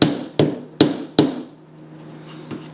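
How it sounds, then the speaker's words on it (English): A hammer drives a nail into a homemade acoustic panel with four sharp, evenly spaced taps, close and loud, followed by a much fainter fifth tap after a brief pause. "and then we just tap that in there"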